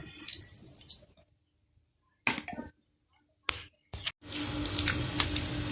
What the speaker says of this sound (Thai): ปั๊มน้ำเราบีบได้ไกลๆเลยนะครับ เพิ่มแรงดัน จาก power supply 11 โวลต์ เป็น 14 โวลต์นะครับ